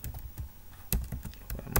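Someone types on a computer keyboard while writing OpenGL ES Android code. The keys click in quick, uneven bursts, with a few louder strokes. The sound is close and fairly quiet, and no one speaks.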